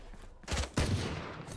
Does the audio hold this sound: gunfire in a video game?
yes